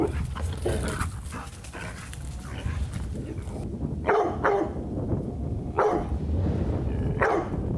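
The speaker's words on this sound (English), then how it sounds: "It went from a submissive growl to a warning." A dog barks and growls repeatedly at close range, with sharp barks breaking through a steady background rumble across the stretch.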